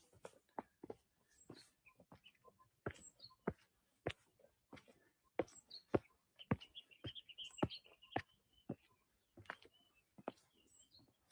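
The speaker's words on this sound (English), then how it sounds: "That is a bird chirping, flower aroma." Small birds chirping in a flower-growing village, short bright calls scattered through the clip, with clicks and knocks between them and a brief twittering run near the middle; no talking.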